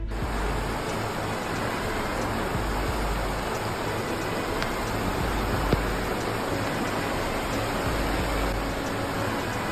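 Floodwater in West Virginia rushing across submerged roads, a loud, unbroken broadband roar like a torrent, steady and close with no breaks.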